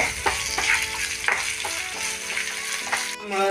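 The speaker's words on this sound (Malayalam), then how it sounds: "നമ്മൾ വെച്ച വേപ്പില നന്നായിട്ട് ഫ്രൈ ആയി" Curry leaves fry in hot oil for a curry leaf pickle, giving a close, crackling sizzle with sharp pops and spits scattered throughout.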